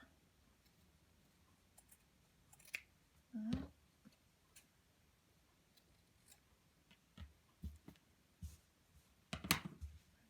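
Scissors snip through a sock while a sock rabbit is being made by hand, giving a few sparse, quiet clicks and cuts spread across a mostly hushed room.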